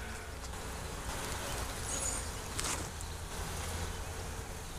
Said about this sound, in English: A lot of bees on here.